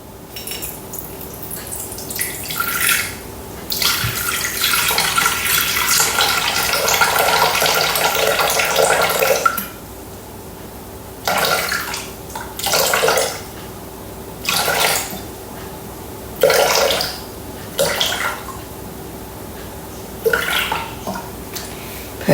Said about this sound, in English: And now we're going to put water, so 300 grams of water.